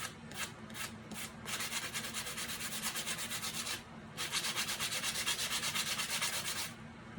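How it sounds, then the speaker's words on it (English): Cured epoxy coating on a glitter tumbler is sanded by hand in close, rhythmic rubbing strokes, two runs of fast back-and-forth scratching separated by a short pause, with no talk. "I think that's a pretty good sand job"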